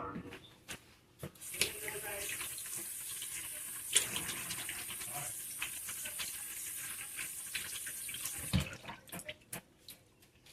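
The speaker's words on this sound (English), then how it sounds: "we're gonna wash our hands" Water runs from a kitchen sink tap as hands are washed after handling cube steak, a steady close hiss with splashy bursts throughout and a brief clatter near the end.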